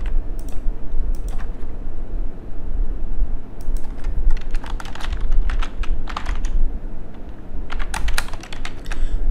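Username and password are typed on a computer keyboard: clusters of quick, close key clicks in uneven bursts with short pauses, with no talk.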